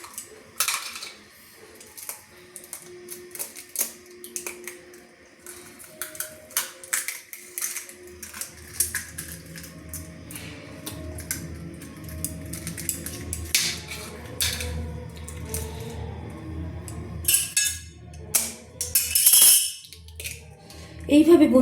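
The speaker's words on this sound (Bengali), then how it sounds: "একটা চামচ দিয়ে কিন্তু ডিমগুলোকে 3টে ডিম আমি ফেটিয়ে নিচ্ছি, ভালো করে ফেটিয়ে নিচ্ছি।" Eggs, three cracked into a bowl with a little salt, whisked with a spoon for egg chowmein: quick irregular clinking and tapping strokes against the bowl, close and fairly soft, with some kitchen clatter and louder knocks near the end.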